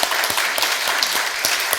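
A congregation claps together in a church service, a dense, steady wash of applause lasting the whole moment with no talking over it.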